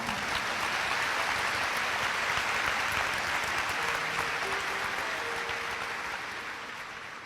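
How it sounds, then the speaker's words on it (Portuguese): Sustained applause from a church congregation during a sermon, a steady dense wash of clapping that holds evenly before tapering off toward the end. "Você pode aplaudir essa palavra?"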